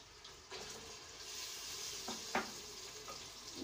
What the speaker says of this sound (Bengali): তো এখন আমি অ্যাড করে দিব হচ্ছে 1 কাপ চপড টমেটোস